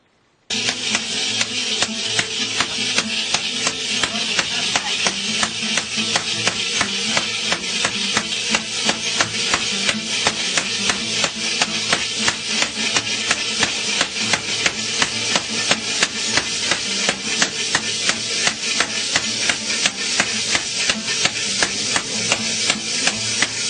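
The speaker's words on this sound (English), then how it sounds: "continue pounding like that as this is being rotated and tipped forward" Hammer blows pound a brass plate into a singing bowl in a fast, steady, unbroken rhythm of sharp metallic strikes, loud and close, continuing for over twenty seconds with no talk.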